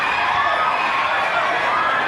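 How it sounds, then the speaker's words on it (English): A huge crowd gathered at the border between Gaza and Egypt, heard as a dense, steady roar of many voices, loud and continuous without distinct words. "Unverified footage shows huge crowds at the border between Gaza and Egypt"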